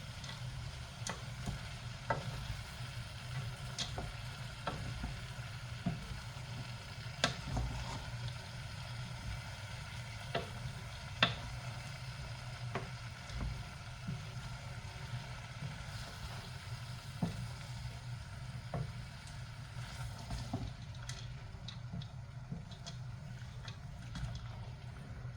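A spoon stirs split pea soup in a pot, soft scraping and faint sloshing under a steady low hum, quiet and continuous with no talk.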